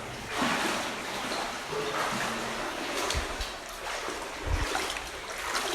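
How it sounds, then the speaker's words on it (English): Water sloshes steadily as someone wades through a flooded tunnel in a copper mine in the Cascade Mountains, with a couple of heavier splashing steps partway through. "Sorry for the sloshing of the water,"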